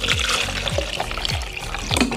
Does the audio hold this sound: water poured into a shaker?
yes